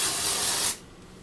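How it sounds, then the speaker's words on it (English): Hair product spritzed from a Cibu spray bottle in one loud, steady hiss lasting most of a second, then cutting off abruptly into quiet. "So you just spray it on and spray it all over, you know?"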